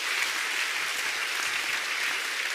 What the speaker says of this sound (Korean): 우리 다시 한번 박수 부탁드리겠습니다